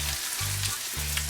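Okra sizzles and fries in a pan, a continuous close crackle with a low intermittent hum underneath.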